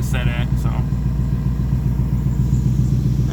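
A twin-turbo 4V Mustang engine idles at about 1,000 RPM, a loud, steady, throbbing low rumble with a lumpy pulse and a few brief clicks near the start.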